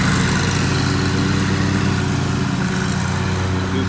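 A lawn mower working a customer's yard drones with a loud, steady, even engine hum, constant and close, with no voices over it.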